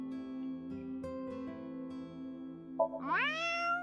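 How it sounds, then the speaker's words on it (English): A video game character in AI: The Somnium Files – Nirvana Initiative meows at a lucky cat statue: one short rising meow near the end, over a steady sustained musical drone with soft chimes. "If you meow at a lucky cat statue, happiness will come your way."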